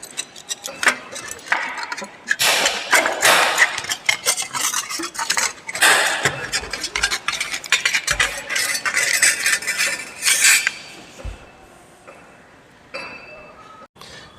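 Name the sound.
bent snips cutting thin metal sheet in a circle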